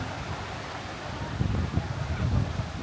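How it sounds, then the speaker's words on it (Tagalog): Steady roaring wind buffets the microphone on Bulabog Beach, Boracay, a broad low rumble that swells and gusts through the middle, with no clear voices. "Sobrang hangin dito"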